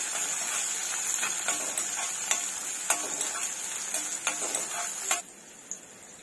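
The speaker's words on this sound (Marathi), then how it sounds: "कांदा घालूया। चांगलं असं परतून घेऊया।" Onion sautéing in a pan, a bright steady sizzle with repeated sharp spatula taps and scrapes against the pan in an uneven rhythm, before the sizzle drops away near the end.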